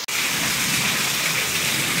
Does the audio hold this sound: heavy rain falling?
yes